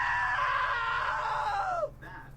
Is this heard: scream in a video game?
yes